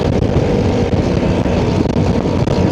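A Suzuki Burgman 400 scooter engine holds steady high revs at about 60 mph on a slight uphill, a loud continuous drone mixed with heavy wind rush throughout.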